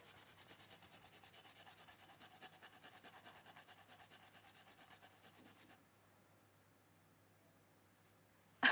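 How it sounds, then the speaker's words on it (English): Garlic rubbed against a kitchen grater in a quick, even rasping rhythm for several seconds, fairly faint and close, then stopping before a short clunk at the end. "So I will just grate like a pinch of our garlic here."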